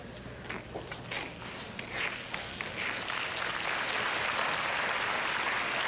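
Crowd applause rises at a 1997 TSN Skins Game curling final between Kleibrink and Houston, starting as scattered claps and swelling into a dense, sustained ovation filling the arena.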